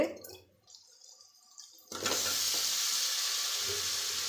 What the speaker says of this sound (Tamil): எண்ணெய் பிரிஞ்சு வர ஆரம்பிச்சிருச்சு நம்ம வந்து லூக்கல் சேர்த்துக்கலாங்க